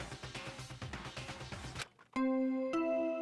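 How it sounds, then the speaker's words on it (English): Body discovery announcement chime from the video game Danganronpa: Trigger Happy Havoc, a clear two-note ding-dong that rings out loudly alone after busy game music cuts off. "What you just heard was the body discovery announcement."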